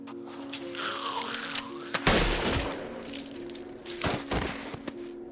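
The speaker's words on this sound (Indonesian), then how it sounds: "ia pun dengan sengaja menembak anak itu tepat di kepalanya" Gunshot in an episode of The Walking Dead: a single sharp, loud report about two seconds in, followed by a few fainter thuds over a low background hum.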